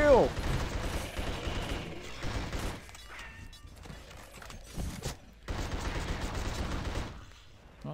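Gunfire in the horror action game The Suffering, several bursts of shots with mechanical clatter, loud and close, separated by brief lulls, with a little talk.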